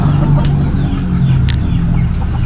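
Chickens in a laying-hen breeding coop cluck softly and continuously, with a few sharper calls rising over a steady low murmur of the flock.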